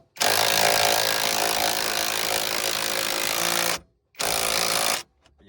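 A loud power tool whirs continuously for several seconds while driving a brake bolt on a Dodge Charger R/T, cuts off briefly, then runs again in a shorter burst before stopping.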